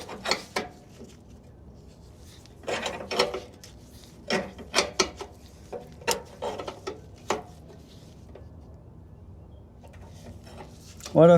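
On a Massey Ferguson 65 tractor, a socket wrench works a fuel tank bolt in bursts of rapid metallic ratchet clicks, separated by quiet pauses, close by and fairly crisp.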